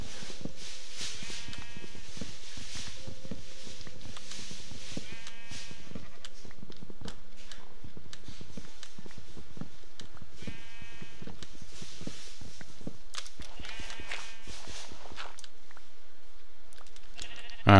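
Minecraft sheep bleat several times in a game, short wavering calls repeating over steady background game sound and clatter, with no one talking.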